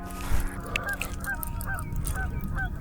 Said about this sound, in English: The geese are coming for me.